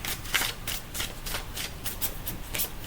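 Tarot cards are shuffled by hand in quick, repeated riffling bursts, about a dozen crisp rustles at a close, even pace, no talking.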